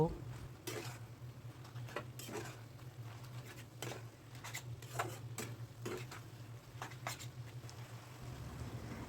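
Bottle gourd leaves being stirred in a covered pan make repeated scraping, tapping clinks of a utensil against metal, with a lid lifted now and then, over a steady low hum.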